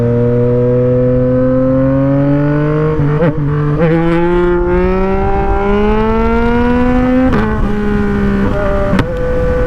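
A Yamaha MT motorcycle engine, an MT-09 or MT-07, revs loud and close in a steady, rising drone with a couple of sharp exhaust pops cutting through near the end.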